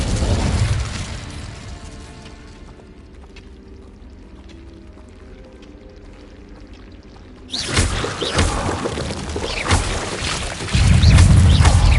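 An Incendio fire spell is cast in Hogwarts Legacy with a loud, whooshing burst of flame that roars in after a quieter stretch and stays dense and close, with a second surge near the end.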